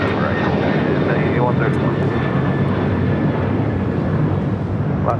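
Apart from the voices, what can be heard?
airplane taking off from LAX runway 25 right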